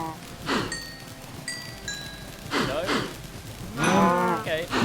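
Minecraft cows mooing in a game, several drawn-out moos one after another with faint tinkling game tones between them, close and fairly loud.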